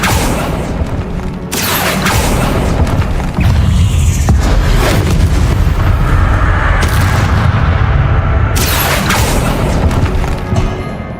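Booming magical spell blasts from the Hogwarts Legacy video game, played on a Dark Arts run, land in heavy, loud bursts over a constant rumbling game soundtrack, with sharp impacts marking the start of several bursts.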